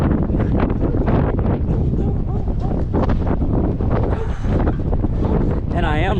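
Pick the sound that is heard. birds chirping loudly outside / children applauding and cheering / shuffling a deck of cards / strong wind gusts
strong wind gusts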